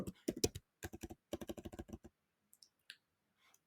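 Someone types on a computer keyboard, a close, quick run of clicking keystrokes in bursts, then a few sparse taps and a pause near the end.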